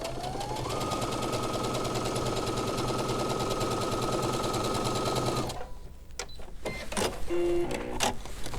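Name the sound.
sewing machine stitching fabric along marked line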